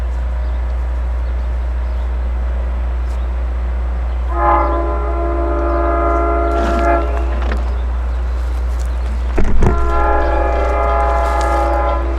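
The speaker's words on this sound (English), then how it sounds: "We're here to see train 660 arrive with DM30AC 505, the leader with 517 on the rear and 8 cars." Long Island Rail Road train 660 arrives with a DM30AC locomotive leading, a second on the rear and eight cars, sounding a loud multi-tone horn in two long blasts over a steady low engine rumble.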